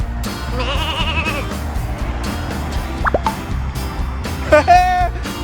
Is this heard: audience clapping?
no